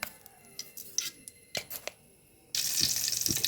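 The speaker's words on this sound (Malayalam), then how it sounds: "കുറച്ച് എണ്ണ ഒഴിച്ച് കൊടുക്കുക കുറച്ച് കടുക് ഇട്ട് കൊടുക്കുക" Mustard seeds hit hot oil in a pan for a coconut chutney tempering: scattered sharp pops and crackles at first, then a sudden loud, dense sizzle that keeps going.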